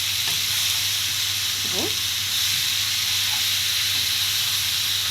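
Sautéed vegetables sizzling in a hot pan with a steady, loud, even hiss and faint stirring scrapes, and a brief spoken word near the start.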